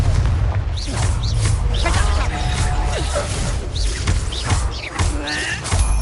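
Repeated Confringo blasting-curse explosions from Hogwarts Legacy, booming low bursts layered over a busy battle mix with shimmering spell effects, sustained and loud throughout.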